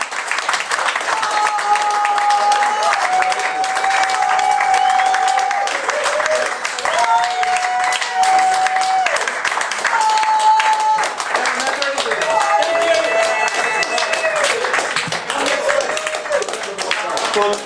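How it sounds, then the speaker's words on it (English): A crowd at a live show claps and cheers for Sean Kelly in sustained applause, with voices and tonal sounds carrying over the clapping for the whole stretch. "Ladies and gentlemen, please put your hands together for Mr. Sean Kelly"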